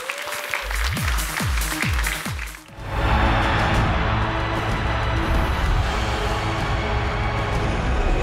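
A short burst of electronic music gives way to a steady wash of audience applause at a FIFA Online esports match broadcast, filling the rest of the clip at an even level.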